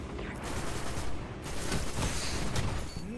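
Sustained auto rifle fire rattles in the video game Destiny, a dense and continuous burst that stays loud throughout with no pauses.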